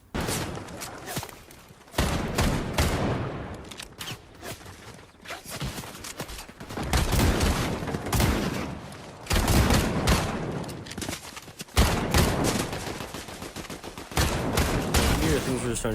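Sustained bursts of rapid gunfire from the video game Fortnite, loud and dense, coming in repeated volleys with brief gaps, with faint voices mixed underneath.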